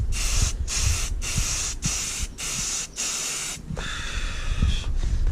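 Spray paint hisses onto a P51 Mustang bass boat in light coats, a loud close spray in about six bursts of roughly half a second each, separated by brief pauses, then a longer pass.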